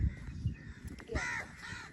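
Harsh crow caws ring out, a couple of loud calls with a short rasping cry between, over low outdoor rumble.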